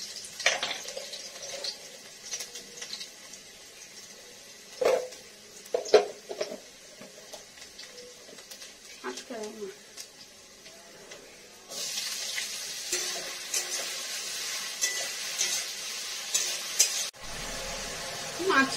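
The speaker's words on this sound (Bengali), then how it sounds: "একটু রসুন আর কালো জিরে দিয়ে ভাজবো।" Garlic and black cumin fry in a pan, giving a steady close sizzle that turns louder and denser partway through, along with some stirring clatter.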